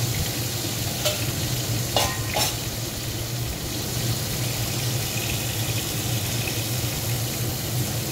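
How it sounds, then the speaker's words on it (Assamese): Continuous loud sizzle of rohu fish pieces frying in oil, with a couple of brief utensil taps near the start; no talking. "আমাৰ তিনিডোখৰকৈ মাছ ভাজিছোঁ"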